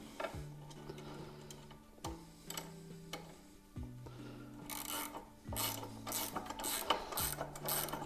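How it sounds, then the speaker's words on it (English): A ratchet wrench with 10mm and 8mm sockets tightens Outback Motortek pannier rack bolts on a third-generation KLR650, making repeated close bursts of rapid clicking separated by short pauses. "Ratchet wrenches make it easy."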